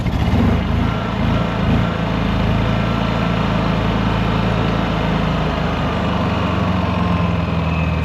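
A Honda EU6500IS generator with a newly replaced carburetor runs steadily at a constant, loud, close engine drone with no change in speed.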